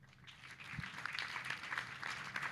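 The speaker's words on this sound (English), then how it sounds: "Can we clap once again for our previous panel?" Moderate clapping from a conference audience for a panel at a youth energy event, a somewhat sparse, uneven patter of hands that builds slightly and keeps going, fairly distant and without speech.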